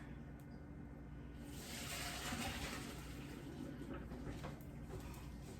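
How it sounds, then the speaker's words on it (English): Water gushes and splashes steadily into a sink, a continuous rushing pour with no talking. "I'm going to drain it, not forgetting to reserve my half of a cup of pasta water."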